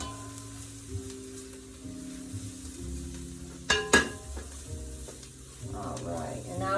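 Seasonings, black powder and salt, being stirred in a sizzling pot for soup make a low hiss, with a few sharp clinks of a spoon on metal near the middle and faint background hum.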